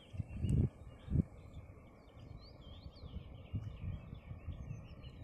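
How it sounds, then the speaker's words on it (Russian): Birds singing among trees on the bank of the Volga river: faint, scattered high chirps and short calls repeating over a low background rumble, with a couple of louder low thumps near the start. "И птички поют."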